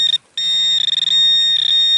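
Metal detector beeping a steady high-pitched signal tone over a buried target while searching for coins, relics and bullets; one brief cutout, then a continuous, loud, close tone with slight warble.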